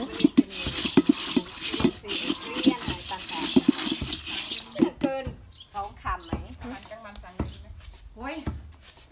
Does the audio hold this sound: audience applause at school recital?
no